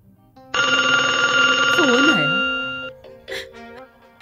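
A telephone ringtone plays loudly and steadily as a bright electronic tone for about one and a half seconds, then a warbling sweep and a fading tail, with brief speech-like sounds afterward.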